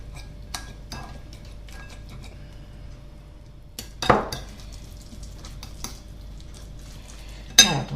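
Taco filling of red onion and chopped coriander being crushed in a bowl, with scattered clinks and scrapes of a utensil and two louder knocks against the dish, close up with no talking.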